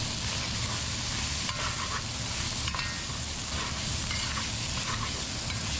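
Fried rice with oyster mushrooms is stir-fried in a pan, giving a close, continuous sizzle with repeated scraping and tossing noises and no talking.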